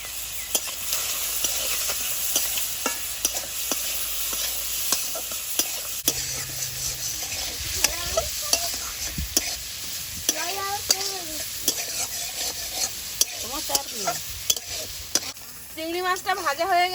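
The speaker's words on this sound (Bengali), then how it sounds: "চিংড়ি মাছটা ভাজা হয়ে গেছে, নামিয়ে নেব।" Shrimp fry in hot oil seasoned with turmeric and salt in a village kitchen pan, a steady sizzle running throughout while a utensil scrapes and clinks against the pan in repeated stirring strokes, close and fairly loud.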